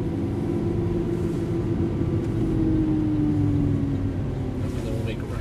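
A 2012 Lamborghini Aventador in Verde Ithaca on a test run at a track at Las Vegas Exotics, its engine a steady, heavy low rumble and drone heard from inside the car, unbroken throughout.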